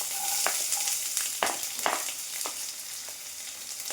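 Onion hits hot coconut oil with popped mustard seeds and fries with a steady sizzle, punctuated by a few sharp spattering pops and light stirring scrapes.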